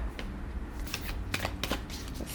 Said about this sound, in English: I'm going to do 5 more shuffles